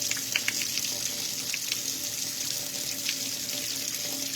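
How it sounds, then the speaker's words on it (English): Running tap water pouring steadily over rice being rinsed in a sink, a continuous close, broadband splashing rush with small irregular splatters throughout. "I just rinse this rice off."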